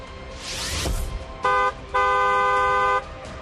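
Two car horn honks, a short blast then a longer sustained one, loud and close over low traffic rumble.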